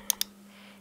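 Two crisp clicks on a computer keyboard in quick succession, followed by quiet with a steady low hum underneath.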